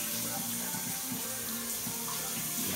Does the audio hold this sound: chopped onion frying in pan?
no